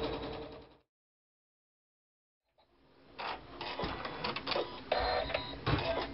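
An embroidery machine stitches an in-the-hoop quilt block square, rapid needle tapping and motor whir that starts, pauses in near silence for a couple of seconds, then resumes.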